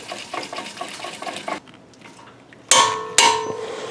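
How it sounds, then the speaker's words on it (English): A torque wrench tightens the brake caliper bolts on a Honda Pilot to 100 foot-pounds, with soft ratcheting followed by two sharp, close metallic clicks about half a second apart. "Now I'm going to go ahead and torque these down to 100 foot-pounds."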